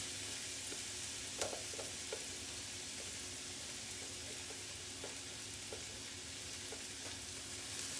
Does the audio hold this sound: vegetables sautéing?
yes